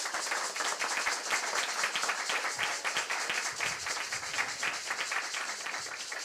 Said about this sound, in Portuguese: E agora eu convido, e peço uma salva de palmas